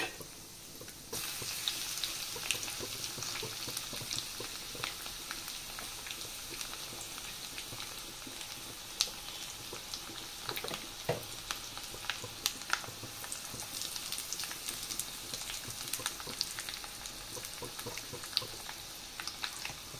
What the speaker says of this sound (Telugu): ఓకే అండి, మాగాయ కోసం నేను పోపు వేసేసుకుంటున్నాను.